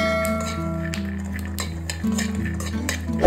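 Peanuts roast in a pan for a sweet avalakki ladoo while a spoon stirs them, giving repeated scraping and light clinking over a low steady hum, close and moderately loud.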